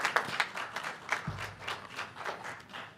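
Steady applause from a group at a school board meeting, many hands clapping continuously at moderate volume throughout.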